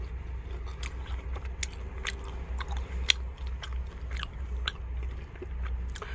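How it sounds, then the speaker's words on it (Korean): Crunchy churros made from corn flour being eaten at a highway rest stop: quiet, irregular crisp bites and crunches over a low steady background hum, with no talking. "추러스 먹을만 하네요 옥수수 가루로 만들어 갖고"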